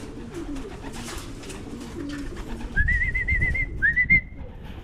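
Birds calling outdoors: soft low cooing early on, then two bright whistled calls rising and holding, each lasting about a second, moderately close.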